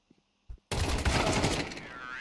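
Gunfire in Counter-Strike 2 on the Overpass map, a couple of faint ticks and a short thump, then a sudden loud, sustained crackling burst of shots close up, fading slightly toward the end.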